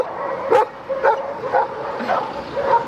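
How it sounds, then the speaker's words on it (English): Several dogs in a small town in Pucon bark in spaced bursts about every half second, some yips and whimpers mixed in, moderately close with no talk. "like a gang of dogs just causing trouble"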